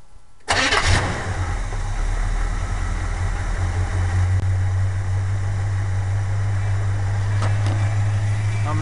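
A warmed-up 1978 GMC Sierra Grande pickup engine, never rebuilt, cranks and fires up abruptly, then settles into a steady, loud, low idle that rumbles on without talk.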